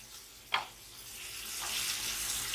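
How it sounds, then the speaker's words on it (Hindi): Afghan kabab made with onion and egg fries in oil in a pan, giving a steady, soft sizzle that releases its water, with one sharp clack of a utensil near the start. "जब इसको फ्राई करें तो थोड़ा इसमें पानी निकलता है"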